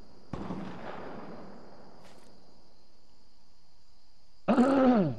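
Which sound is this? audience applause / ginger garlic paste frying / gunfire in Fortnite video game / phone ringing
gunfire in Fortnite video game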